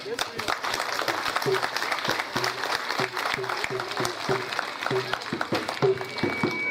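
A village crowd applauds in steady clapping throughout, with a voice speaking over it during a welcome for a visiting vice ambassador.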